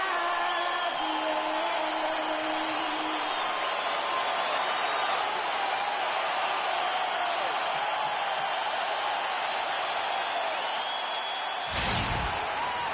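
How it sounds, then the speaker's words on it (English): Arena crowd roaring and cheering inside Golden State's Oracle Arena in the video game NBA 2K16, a dense, steady wash of loud crowd noise for the whole stretch with a brief sharp burst near the end. "We've got an electric crowd here in Golden State's Oracle Arena."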